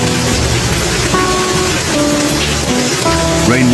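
Heavy afternoon rain pours in front of a house, a loud, steady broadband hiss with faint tonal notes drifting over it and no voices.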